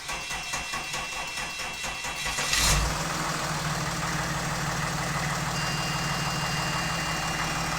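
A Mercedes CLS 320 turns over on the starter with rapid cranking, catches with a loud surge, then settles into a steady, close idle.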